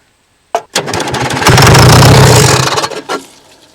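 An abandoned excavator's engine fires on starting ether, bursting loudly into a brief rough, revving run of about two and a half seconds before cutting out, with a short starter crank at the beginning and a final cough.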